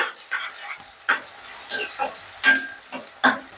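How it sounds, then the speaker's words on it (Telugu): Chopped onions hitting hot oil in a pan for a home-style chicken fry, giving irregular bursts of sizzling and stirring scrapes, several sharp clatters of utensil against the pan, with no talking. "ఒక 2 ఉల్లిపాయలు ఇలా చిన్న చిన్న ముక్కలుగా తరుక్కోవాలి. ఇవి వేసుకోవాలి."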